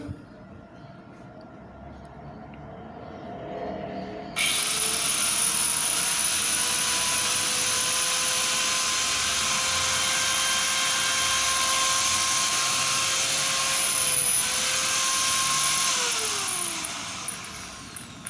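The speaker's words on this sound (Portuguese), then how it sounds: "ela apresenta um ruído muito estranho, parecendo que a engrenagem está indisposta ou a falta de graxa" A Makita M9510 angle grinder switches on and runs continuously with a high whine and a rough, grating gear noise from a faulty or under-greased gear, close and loud, before winding down at the end.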